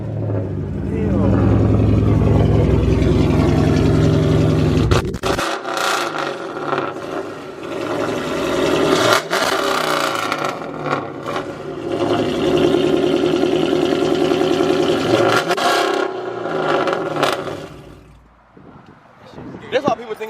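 A 2019 Dodge Challenger Scat Pack with a shaker hood rumbles loudly and revs, the deep engine note strongest in the opening seconds and rising again in bursts, with voices talking over it throughout.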